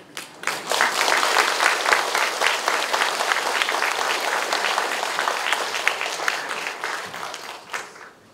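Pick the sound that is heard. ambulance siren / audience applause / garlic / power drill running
audience applause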